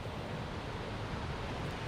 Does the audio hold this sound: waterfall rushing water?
yes